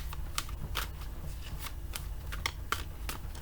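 Tarot cards are shuffled in a quick series of sharp riffling snaps, about a dozen crisp bursts close by over a low background hum.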